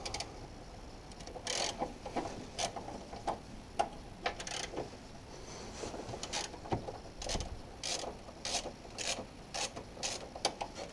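Two bracket bolts on a VW Sharan or Seat Alhambra engine being loosened with a 10mm bit during timing belt and water pump work. A close, irregular ratcheting tick repeats in sharp clusters and there are no voices.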